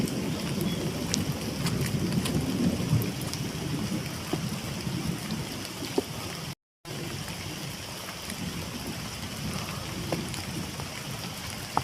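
Heavy rain pours steadily during a solo camping trip in dim light, a dense continuous hiss and patter on surfaces with no talk, broken only by a brief drop-out midway.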